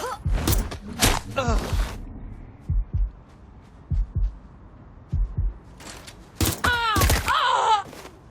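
Gunfire during a firefight in the video game Watch Dogs Legion, with sharp loud shots and bursts clustered at the start and near the end and short low thumps between them, and game voices heard among the shots.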